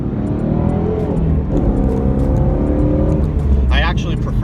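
A 2017 Ford Mustang GT350 cruises at about 60 mph on the highway, giving a steady, loud drone of engine and road noise that runs the whole time under a voice.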